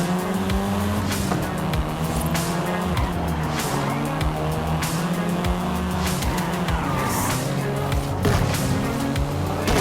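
A seventh-generation Volkswagen Golf R races in Forza Horizon 5, its engine revving up and down through gear shifts alongside repeated tire squeals and skids, loud and continuous throughout.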